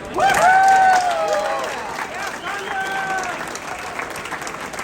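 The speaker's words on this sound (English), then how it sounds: "Huge round of applause for Thunder" A crowd at a 2023 US Air Force Thunderbirds team introduction breaks into loud, steady applause with a few cheers and whistles, fading slightly as it continues.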